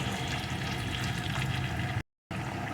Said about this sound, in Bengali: রসুন বাটাটা ভালো করে ভেজে নিয়ে এর ভিতরে দিয়ে দেবো আমি এক টেবিল চামচ জিরে আদা বাটার পেস্ট